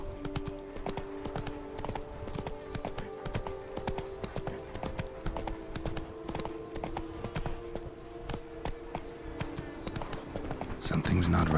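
Horse hooves clip-clop steadily and rhythmically in The Witcher 3, close and continuous over a layer of game music, with a faint whinny possible near the end.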